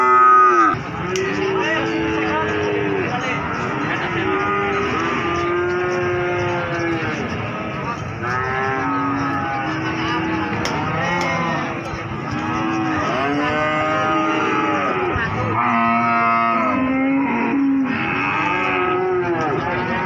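Many cattle mooing at an Indonesian village livestock market, the Pasar Sapi Pon in Jaken, Pati, with overlapping long, loud calls from several animals near and far, continuing throughout over a busy crowd murmur.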